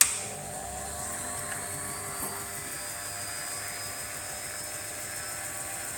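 A Van de Graaff generator running, its motor and belt giving a steady high mechanical whine and hum as charge builds, constant and fairly loud throughout with a faint tick partway through and no speech.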